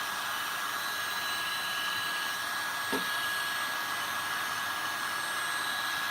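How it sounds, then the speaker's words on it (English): A fully adjustable heat gun blows hot air in a steady, even, close whoosh with a faint high whine and no change in level throughout. "So that's a fully adjustable heat gun."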